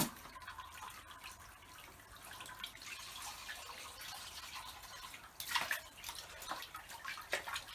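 Water from a hose pipe steadily filling a bucket during a koi pond holding tank clean, a continuous splashing hiss with a few brief clatters near the end, no talking.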